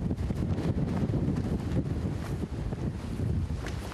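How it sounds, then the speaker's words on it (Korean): Rough sea and strong wind buffet a 119 fireboat holding position near a breakwater as a typhoon approaches, a steady loud wash of waves and roaring wind gusts with no speech. "파도는 점점 심해지는데"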